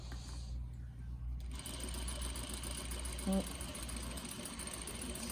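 Sewing machine stitching fabric, running continuously with a fast, steady mechanical whir and hum throughout, close and fairly loud, with a brief tonal beep-like blip partway through.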